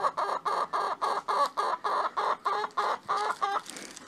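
A hen clucks after swallowing a mouse whole, a close, rhythmic series of about a dozen evenly spaced loud clucks that fade slightly at the end, with no talk.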